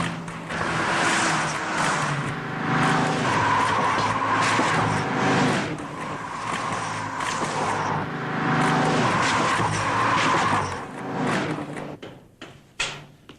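Car tyres, Australian and European steel radials, skid and hiss across a wet road during a wet grip test, a loud sustained rushing swell that rises and falls twice before thinning out at the end.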